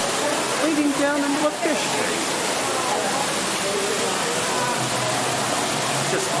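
A small indoor waterfall pours into a fish tank at a Denver exhibit, giving a steady, loud rushing wash of water throughout, with a voice speaking briefly near the start.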